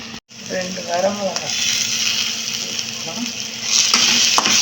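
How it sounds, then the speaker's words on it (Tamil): Quail pieces fry in a pan with a loud, continuous sizzle and crackle, occasional stirring scrapes and a brief voice near the start, the hiss swelling slightly toward the end. "ஒவ்வொன்றும் இப்போ வந்து வதங்கிக்கிட்டு இருக்கு"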